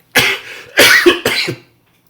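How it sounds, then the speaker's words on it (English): Three harsh coughs in quick succession from a person with COVID-19, loud and close, followed by silence. "I'll cough to the point where I'm sweating"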